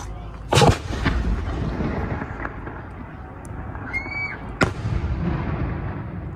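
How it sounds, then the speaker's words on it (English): A firework bursts with a sharp crack, followed by a whistling rise and another loud pop, echoing against a murmuring outdoor background on a Ramadan night in Sarajevo. "Part of the firework right here."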